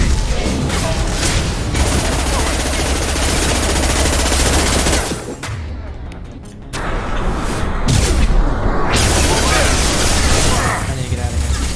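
Gunfire in Mass Effect 2 rattles in dense, loud automatic bursts almost continuously, with booming impacts, a brief lull midway, and shouted voices mixed under the combat.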